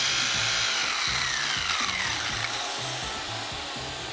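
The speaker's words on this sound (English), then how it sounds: "I switched out the blade for the diamond blade because now I'm gonna cut some ceramic" A Rotor Razor oscillating tool fitted with a diamond blade grinds through ceramic tile, a loud continuous buzzing rasp held steadily close up with no breaks.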